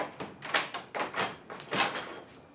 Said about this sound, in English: Just slide it over and then supposedly